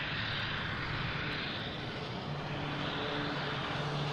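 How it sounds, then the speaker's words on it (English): An American Airlines Embraer E175 arrives from Columbus at Boston Logan, a steady, fairly faint whooshing engine drone with a low tonal hum, heard alone without talk. "American Airlines coming in."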